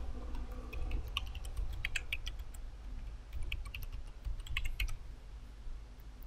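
Quiet bursts of keystrokes as a password goes into a computer keyboard, quick clustered clicks over a low room hum with no talk.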